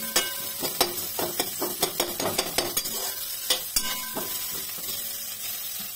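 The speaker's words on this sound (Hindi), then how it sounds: "प्याज को लाइट पिंक होने तक हमें भुनना है" Onion frying in a pan, a steady sizzle under a run of sharp clinks and scrapes from stirring with a utensil, loud and close with no talking.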